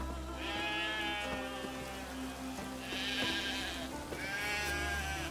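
Sheep in The Witcher 3 bleat in three wavering calls, close and clear, over a steady patter like rain and a low background hum.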